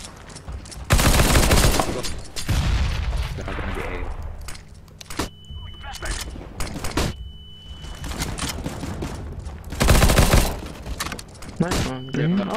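Bursts of rapid gunfire from a CS:GO match come in two dense volleys separated by scattered single shots and clicks, with players talking over the action.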